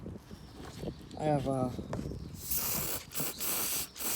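Someone speaks briefly, then an aerosol can of lubricant sprays on a Nissan Leaf in a loud, close hiss lasting a couple of seconds, broken by a few short pauses.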